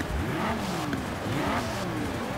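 An Audi RS3 in Forza Horizon 4 revs hard, the engine note sweeping up and down through gears with fluttering turbo chatter between pulls, loud and close throughout.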